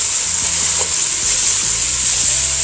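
Italian sausage meat frying in a pan, a loud steady sizzle with scraping stirs at intervals, close up and with no talking.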